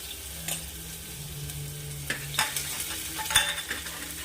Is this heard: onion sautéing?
yes